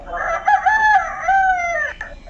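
A rooster crows once, loud and close, a long wavering cock-a-doodle-doo that rises, holds, and drops off at the end.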